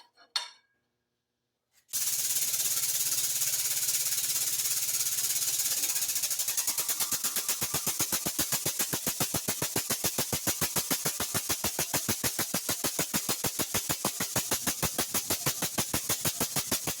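An air/hydraulic press brake runs steadily and loudly, with a fast rhythmic pulsing pump beat that settles into an even repeating cycle while a six-inch piece of 1/4 inch steel plate is bent.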